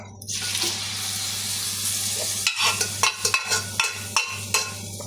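Cooked duck is poured into a pot of curry and stirred, with a steady simmering hiss followed by several distinct scraping and clinking strokes of a spoon against the pot, close and fairly loud.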